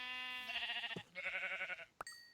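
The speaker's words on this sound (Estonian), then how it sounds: "lammas." Minecraft sheep bleating twice in quick succession, close and fairly clear, followed by a short game click and a brief tone.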